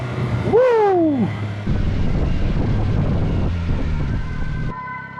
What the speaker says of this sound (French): Les pompiers!